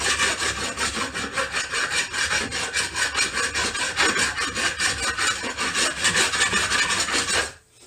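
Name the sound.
hand file smoothing gel coat on C4 Corvette spring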